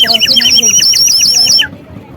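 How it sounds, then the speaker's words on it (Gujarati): A toy sparrow whistle chirps in a rapid, bright warble of repeated notes, loud and close, then stops abruptly. "તમે આ આગળ અવાજ સાંભળ્યો જ છે ચકલીનો"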